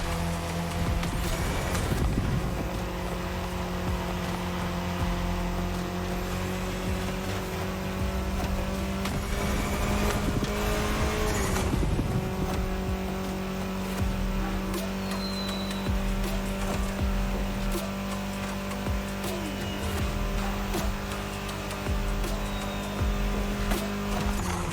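Mini Cooper racing in The Crew Motorfest: a loud, steady engine drone held throughout, with tire squeal and skidding swells and shifts in pitch, no talk.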